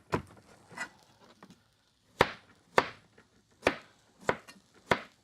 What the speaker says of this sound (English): just cut them up really fast.